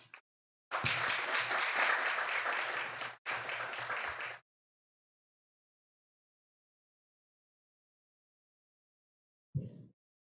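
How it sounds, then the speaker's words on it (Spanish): Audience applause at a business plan pitch competition final, a burst of clapping lasting about four seconds with a brief break, then silence and a short faint sound near the end. "Y las recibimos con un aplauso."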